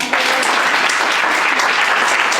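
Steady, dense clapping from an audience at an annual general meeting, a continuous even wash of many hands that stays loud and unbroken from start to finish.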